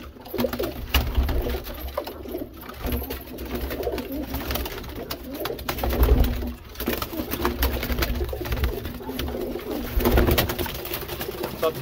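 Several Sonipat Lalban pigeons with white bars keep up a continuous murmur of deep cooing nearby, the calls overlapping and swelling at times, with no voices.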